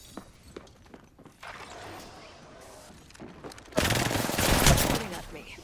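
Rapid bursts of gunfire in an Apex Legends match, quiet and sporadic at first, then a loud, dense volley erupts for the last two seconds.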